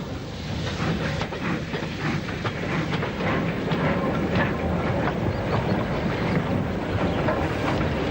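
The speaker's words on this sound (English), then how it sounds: "an Ivet Mogul shunts the stock of its train from Oswestry" An Ivatt Mogul steam locomotive shunting its train's coaching stock rumbles and clatters steadily, a low mechanical roar with faint rhythmic clanks, heard from nearby with some wind buffeting.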